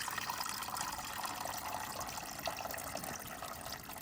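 Water runs steadily into the reservoir of a countertop ice maker, making a continuous soft gushing and trickling pour that stays fairly quiet throughout.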